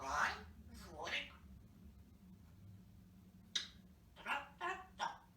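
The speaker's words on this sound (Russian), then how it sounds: "Попугай, Жорик." Pet parrot vocalizing indoors in a series of short, bright squawks and chirps, a couple near the start and a quick cluster toward the end, with quiet pauses and low room hum between.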